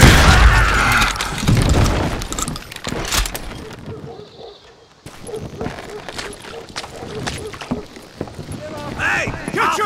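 Gunfire and booming shots ring out during a street shootout in Call of Juarez Gunslinger. Loud cracks come in irregular bursts with a brief lull in the middle, mixed with shouting voices.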